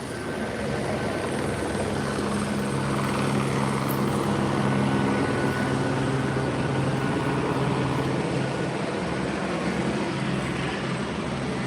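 A police helicopter hovers over Los Angeles streets, its rotor a steady, moderately loud whirring drone that holds evenly throughout with no talking.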